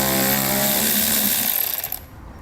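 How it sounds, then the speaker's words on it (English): A power tool whirs steadily as it drives a 10mm socket to remove a bolt from a Demco tabless base plate mount on a 2014 Honda CR-V, spinning loudly for about two seconds before winding down and stopping. "we'll remove the bolt with a 10mm socket"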